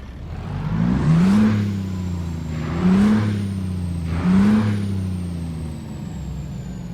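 A straight-piped CAT 3406E diesel truck engine in American Truck Simulator revving in three repeated surges, each rising to a growl then settling back into a steady low idle.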